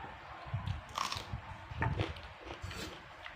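Someone eating sticky rice makes soft, close, quiet chewing and squishing sounds in short irregular bites, with no talk.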